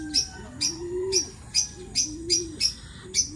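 Sharp, bright lovebird chirps repeat at a steady pace, about eight in a row, over a low warbling call underneath, in the rural Philippines.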